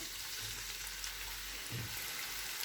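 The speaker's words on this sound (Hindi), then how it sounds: "ऑयल गर्म हो गया है, अब इसमें प्याज डाल देंगे।" Onions fry in hot cooking oil with a continuous soft crackle and hiss, quiet and steady, with brief heavier bursts and nobody speaking.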